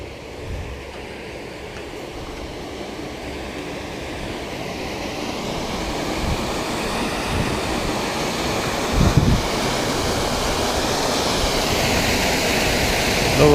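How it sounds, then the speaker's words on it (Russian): Steady rushing water, like a stream or weir, roars close by at a fishing spot, a continuous broadband wash that swells slightly with a few gusty bumps of wind on the microphone and no talk. "На фоне шумит вода."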